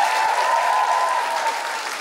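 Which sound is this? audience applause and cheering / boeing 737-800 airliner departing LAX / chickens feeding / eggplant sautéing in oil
audience applause and cheering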